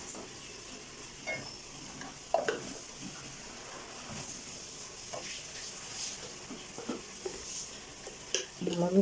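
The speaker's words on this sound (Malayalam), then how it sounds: "ഇതിൻ്റെ പച്ചമണം മാറുന്നവരെ ഒന്ന് വറുത്തെടുക്കാം." Spices, with coriander powder among them, are stirred and roasted in a pan, making a soft sizzle with scraping spoon strokes and light clicks, while a voice talks faintly in the background.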